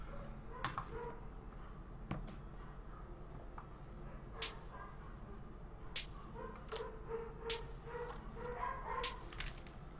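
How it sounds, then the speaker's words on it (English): Dogs bark somewhere in the background of a quiet room, giving scattered, fairly faint yelps and short barks over several seconds, with no talking. "Dogs are having a wonderful time."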